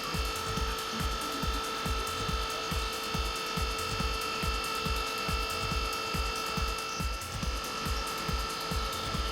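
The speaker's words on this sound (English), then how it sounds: "Due to the air in the hydraulic system, the lift is still moving unevenly." A TWIN BUSCH TW S3-19 hydraulic double scissor lift moving unevenly with air still in its hydraulic system gives a steady pump whine, tonal hum and rapid regular knocking pulses, close and continuous, with no talking.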